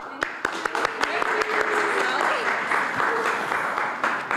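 An audience at an immigrant community event in Boston claps. Sharp, distinct claps open the clip and then settle into a denser applause, with a voice faintly heard underneath.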